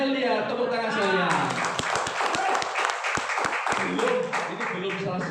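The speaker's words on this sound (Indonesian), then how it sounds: "Tepuk tangan saya" An audience at a talk claps in a short burst of distinct, close claps, with someone speaking before and after.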